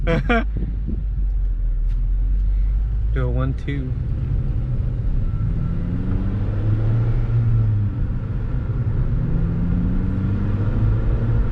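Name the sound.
9th gen Honda Civic Si engine with K-Tuned 3" intake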